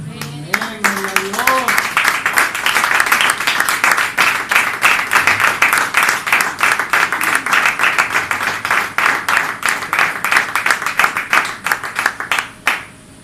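A church congregation claps and applauds for several seconds after a sermon on Romans, a dense, steady patter of many hands that fades out near the end.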